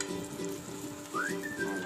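Eggs fry in a pan with red chilli, giving a close, continuous crackling sizzle with a brief thin whistling tone near the end.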